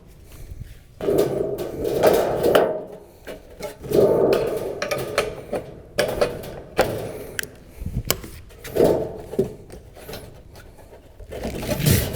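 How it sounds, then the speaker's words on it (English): Metal valley trim being carefully trimmed for roofing, a series of short cutting snips and clanks in uneven bursts, close and clear with no talking. "So what I'm doing is I'm just carefully trimming a little bit."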